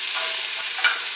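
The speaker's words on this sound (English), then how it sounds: "this has still got kind of a high sizzle" A sirloin tip roast with garlic sizzles steadily in a stovetop pan, a constant close hiss of frying with one brief louder spatter near the end.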